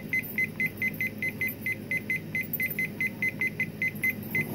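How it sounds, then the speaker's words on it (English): An Olive Ridley digital kitchen timer on a countertop beeps in a steady, rapid series of short, sharp tones repeating throughout, close and alone. "This is a timer for your countertop."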